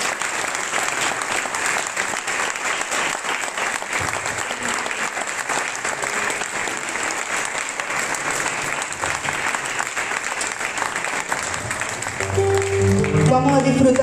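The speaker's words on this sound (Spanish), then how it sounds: "Dale ese aplauso al Señor, venga" Steady, loud applause from a church congregation during a Spanish-language united worship service, sustained across the whole stretch with clapping and murmuring voices rising near the end.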